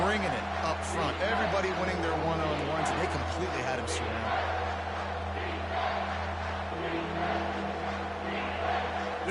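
Stadium crowd in an NCAA 25 college football video game, a steady loud roar filling the background throughout under a commentator's voice.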